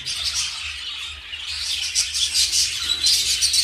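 Rainbow budgerigars in a breeding aviary, a close, busy chorus of rapid high chirps, tweets and squawky chatter running continuously over a low background hum.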